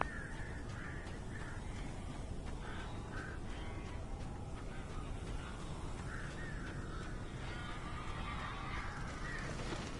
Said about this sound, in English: Barry had talked about birds over the phone.